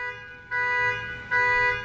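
A steady electronic alarm sounds nearby, its layered tonal beeps holding constant and stepping louder twice, with no voices over it.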